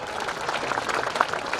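Applause at a school event welcoming a guest fills the short moment as a brief, moderate patter of clapping from a group of children and parents.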